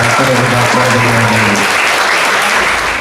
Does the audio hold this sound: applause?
yes